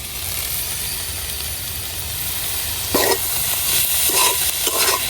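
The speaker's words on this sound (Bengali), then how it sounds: "এখন ভালো করে ফুলকপিটা বাইতে নিলাম।" Cauliflower is stir-fried in a pan in a home kitchen, giving a loud, steady sizzle. Several scraping strokes of a spatula come in the second half, with no speech.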